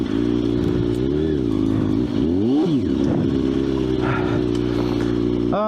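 A motorcycle-like engine drones steadily and loudly while the vehicle crawls off-road over rocks, its pitch rising and falling with throttle, with occasional clatter and scraping.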